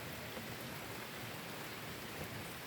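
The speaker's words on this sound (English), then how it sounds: "It's been raining all night. It started in the middle of the night last night, and it's just pouring down." Steady, cold rain pours down outdoors, with leaf mulch covered on a trailer nearby; a dense, even hiss of rainfall continues unbroken, moderately loud and with no voices.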